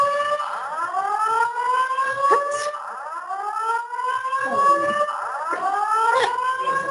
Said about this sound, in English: The building fire alarm has been activated.